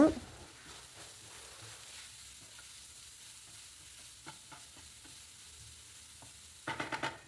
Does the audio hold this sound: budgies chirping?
no